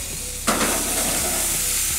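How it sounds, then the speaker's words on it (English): Hamburger patties sizzle on a grill with a constant close hiss and crackle that jumps louder at one point, then settles into a steady frying sizzle with no talking. "It even kind of sizzles a little."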